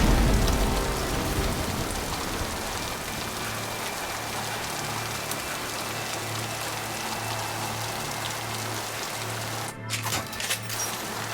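Steady, dense rain pours in the sci-fi video game Mass Effect 2, a constant close hiss with a low hum underneath and a brief disturbance near the end; no voices.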